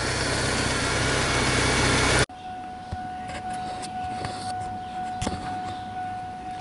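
A 1999 Ford Ranger 2.5L engine with a fuel pressure fault idles nearby. A loud rushing burst cuts off abruptly, then a steady mid-pitched idle hum continues with faint ticks.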